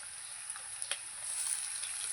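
Chicken frying with onion, ginger and garlic gives off a faint, steady, even hiss with a couple of small stirring taps partway through. No one speaks.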